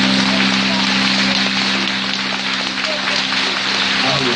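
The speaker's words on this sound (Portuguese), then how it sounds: "E vamos aplaudir a Deus." A church congregation at a Sunday service in Manaus applauds, a dense, steady wash of clapping that stays loud and even for the whole stretch, with a low hum underneath.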